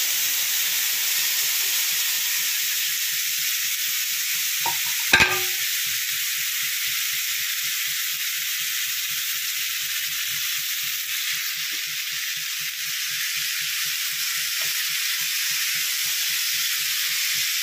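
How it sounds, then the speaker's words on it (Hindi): Chopped papaya sizzles in hot ghee with a steady, loud, continuous frying hiss throughout, broken once by a brief sharp clatter, and no one speaks. "अब हम इसी घी में पपीते को डाल देंगे।"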